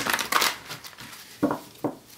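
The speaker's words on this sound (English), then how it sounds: "One more shuffle." Tarot cards being shuffled by hand, a run of papery riffles and crinkles followed by two short, sharp card snaps, heard close up with no talk.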